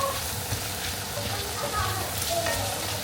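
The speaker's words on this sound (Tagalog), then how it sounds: "Ginisa ko lang siya." Onions and garlic sauté in a hot pan, a continuous close sizzle and crackle with occasional stirring sounds, a voice speaking faintly underneath.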